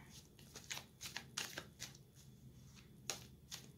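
Soft, repeated riffling and slapping of tarot cards being shuffled by hand, close and quiet, in an irregular rhythm.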